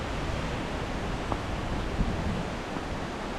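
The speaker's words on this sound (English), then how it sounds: "It's still so windy." Strong wind roars steadily on a mountain ski trail at Tuckerman Ravine, a dense rushing blast buffeting the microphone without letup.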